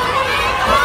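A crowd at an outdoor World Cup viewing square cheers and applauds in a loud, continuous wash of voices and clapping for a brief moment.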